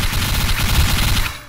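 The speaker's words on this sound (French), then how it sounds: "On nous tire dessus!" Rapid gunfire in DarkRP, a short loud burst of close automatic shots fired in quick succession and fading out at the end.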